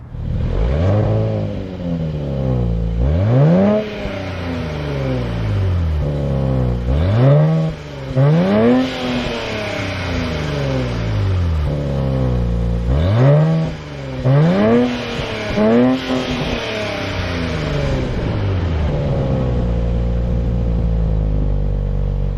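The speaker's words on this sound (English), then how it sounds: "one of the best sounding stock V6 exhaust systems I think I've ever" Stock V6 exhaust of a 2024 Nissan Z Nismo revving repeatedly, loud and close, with sharp rising blips and falling decays in several bursts, then a settled idle rumble.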